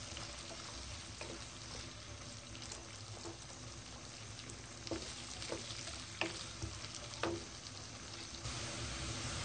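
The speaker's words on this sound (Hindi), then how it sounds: "साथ ही हम प्याज डाल देंगे। प्याज को हम हल्का गोल्डन करेंगे।" Onions frying in a pan until light golden for achar gosht give a steady, close sizzle throughout, with a few soft stirring clinks and scrapes standing out over the hiss.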